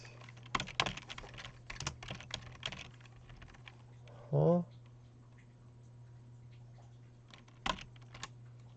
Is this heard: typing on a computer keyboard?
yes